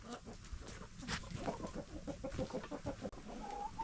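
Chickens in a snowy-day coop cluck and murmur continuously in soft, irregular bursts, several birds close by with a low barn hum beneath.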